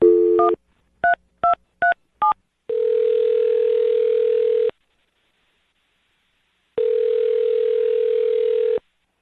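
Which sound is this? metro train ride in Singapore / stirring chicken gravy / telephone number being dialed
telephone number being dialed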